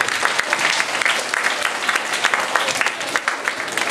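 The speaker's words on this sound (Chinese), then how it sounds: "我们小朋友这边掌声欢迎我们的家长啊" Children at a school New Year gathering clap in welcome, a dense, continuous round of close applause with a faint voice in the background.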